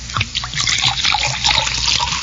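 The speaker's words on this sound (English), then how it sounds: "Shall I pour it, Judge?" Kalak water pours into a glass, a steady close trickle of liquid lasting a couple of seconds with no talk over it.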